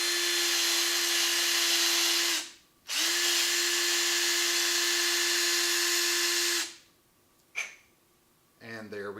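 A power drill drives a case trimmer cutting a brass cartridge case, whirring steadily in two long bursts with a brief pause between, followed by a short click and a quiet breath near the end.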